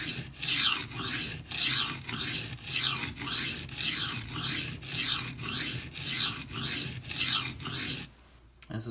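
A knife blade rasps over a friable coarse sharpening stone under light pressure, in about a dozen even back-and-forth strokes, close and clear, before stopping near the end.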